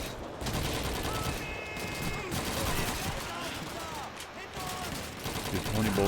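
Rapid rifle and machine-gun fire in the 2005 World War II shooter Call of Duty 2, bursts of shots running continuously with battlefield noise and a voice talking over it.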